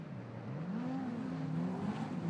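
Midget race cars at Ruapuna drone from a distance, their engine notes rising and falling in layered, faint whining tones.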